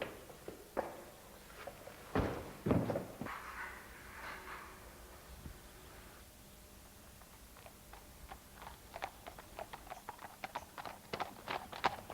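Horses' hooves clip-clopping at Priddy Fair, a traditional sheep fair on the Mendip Hills, with a few louder knocks early and then a quick, steady run of faint hoof clops at a distance.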